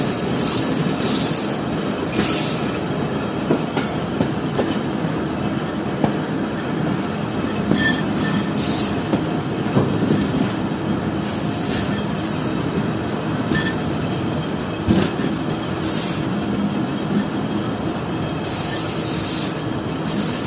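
Fareed Express passenger train rolling slowly onto a temporary diversion track beside bridge works, with a steady loud rumble of wagons, wheel squeal and bursts of high hissing spray throughout.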